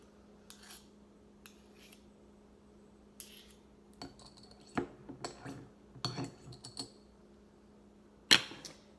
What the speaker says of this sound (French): je vais gratter le fond de ma cuillère